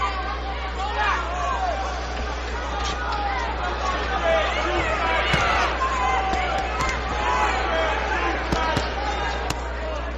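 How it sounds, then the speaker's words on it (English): Punches land in the professional boxing bout between Floyd Mayweather Jr and Phillip N'dou, dull thuds scattered irregularly under a steady arena crowd murmur and ongoing commentary. "you can hear the sound of Ndou's punches now"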